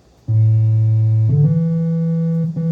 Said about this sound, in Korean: 삼각파로 가면